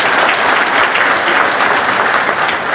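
Audience applause at a live hotel launch event in Arusha, a dense, steady wash of clapping from a large crowd that holds at full strength for the whole stretch.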